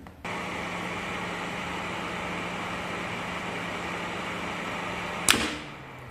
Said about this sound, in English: motor 1 would go off, but motor 2 will stay on for some time before it also goes off